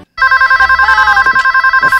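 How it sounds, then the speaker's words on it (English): Telephone ringing in the animated film Monster House, a loud, continuous electronic ring pulsing rapidly and steadily right after a brief silence, with no talking. "The phone! A phone call."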